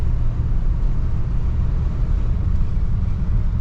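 A 1971 Cadillac Deville cruising at about 60 mph, heard from inside as a steady, loud low rumble of engine and road noise with no breaks or talking.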